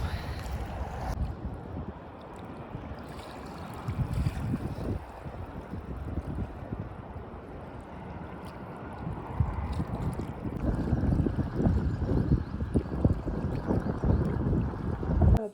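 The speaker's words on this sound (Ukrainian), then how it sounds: "Зараз вітряно. І трішки-трішки моросить дощик." Gusty wind buffets the microphone in a steady rumble during light drizzle, swelling louder toward the end, with a faint watery wash beneath.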